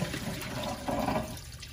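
Cold tap water runs over chicken in a pan in a home kitchen, giving a steady close rushing and splashing that lasts the whole short moment, with no talking.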